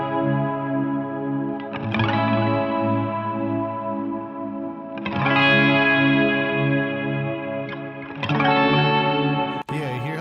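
Sustained chords, compressed in Pro Tools before hitting the reverb, swell into heavy reverb and chorus-like shimmer, each new chord blooming and washing out over a few seconds.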